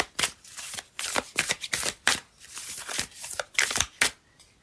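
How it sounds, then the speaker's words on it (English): Close, crisp riffling of oracle cards being shuffled and drawn, a quick series of papery flutters and snaps with short pauses between them, heard with no talk. "let's just get the last oracle card"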